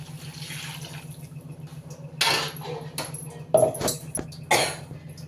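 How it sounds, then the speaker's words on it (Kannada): Water is poured into a mixer jar in a home kitchen, a few short splashing bursts over a steady low hum, close and moderately loud, with no talk. "ಜಾರಿಗೆ ಸ್ವಲ್ಪ ನೀರು ಹಾಕ್ಕೊಂಡು ಸೇರಿಸ್ಕೊಳ್ಳಿ"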